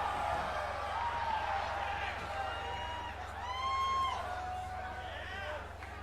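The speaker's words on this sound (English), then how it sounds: "Well, the crowd seems to be enthralled." Arena crowd cheering in the wrestling video game WWE 2K20, a steady roar of cheers and whoops that swells and dips under someone commentator's voice.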